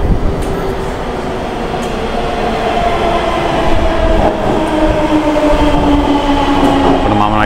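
A Delhi underground metro train rumbles loudly at the station platform, its wheels droning and whining with rising tonal squeals as it slows to a stop, the roar close and continuous throughout.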